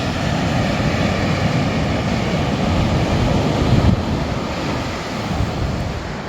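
Waves wash steadily onto an empty beach beside a flat ocean on a winter day, a continuous broad roar of surf mixed with wind rumbling across the microphone, no voices present.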